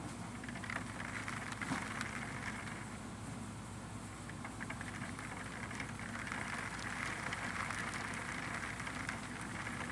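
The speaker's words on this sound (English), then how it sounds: "The rain is here, guys." A steady, soft patter of rain falls outdoors, an even hiss of drops hitting surfaces that holds for ten seconds at low level with no talking.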